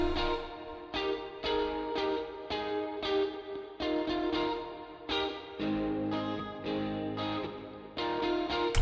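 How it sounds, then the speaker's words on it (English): An electric guitar through a jazz amp model gives a twinkly, modulated tone, a steady run of bright picked notes and chords with a shimmering chorus-like wobble, played alone and up front. "It's just that little like twinkly modulated kind of sound."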